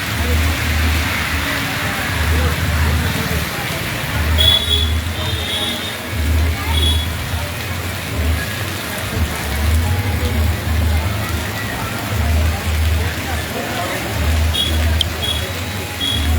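Steady rain falls throughout, a constant wash of patter with low rumbling underneath and faint voices in the background.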